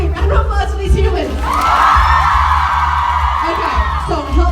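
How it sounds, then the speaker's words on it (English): A crowd at a Freehold, New Jersey gathering breaks into loud cheering and whooping with scattered shouts, swelling and holding for a couple of seconds over a steady low hum, then easing back as voices return. "Round of applause for these humans."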